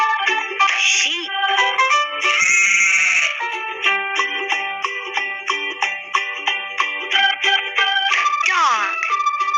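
A sheep bleats several times over bright, melodic music.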